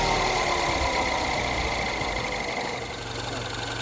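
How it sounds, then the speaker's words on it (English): A Mini Cooper S engine idles steadily and close by, a dense continuous mechanical hum with a faint knock that eases slightly toward the end; no starting crank is clearly distinct. "So let's go and spin her over."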